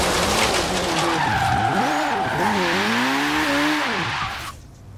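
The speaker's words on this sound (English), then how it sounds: "Drifting!" Tyres squeal loudly and continuously as a car drifts in the Forza Horizon 3 racing game, the engine note rising and falling in sweeping pitch bends before the sound cuts off near the end; no talk is heard.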